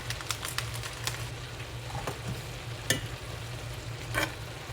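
Fried cabbage with kielbasa and bacon stirred in a pan, a steady low sizzle with scattered scraping and clicking strokes from the spoon, close by and fairly quiet, with no talking.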